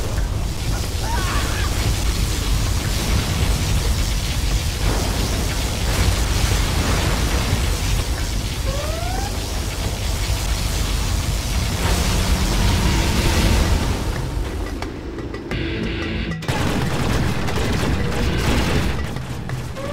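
A particle cannon strike from the Laser General in C&C Generals: Zero Hour erupts as a loud, sustained roaring blast that fills nearly the whole stretch, then thins and falls off slightly near the end.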